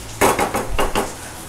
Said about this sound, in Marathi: आता हे चांगलं मी ढवळून घेतली.